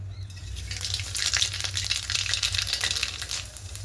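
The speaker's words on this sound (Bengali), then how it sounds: "তেলের মধ্যে দেব কালো জিরে ফোড়নে।" Nigella seeds hit hot oil in a wok and set off a steady, close crackling sizzle with spitting pops, continuing without pause.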